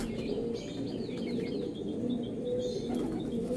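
A Golden Eyes bunty pigeon calls with repeated soft, low cooing notes, close by, while faint higher chirps from other birds are scattered over a constant background hum.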